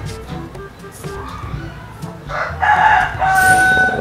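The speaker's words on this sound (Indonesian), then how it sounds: "ayam berkokok, ayam berkokok." A rooster crows in the mobile game Magic Chess, a short, loud cock-a-doodle-doo rising near the end after a stretch of quieter game sounds and background murmur.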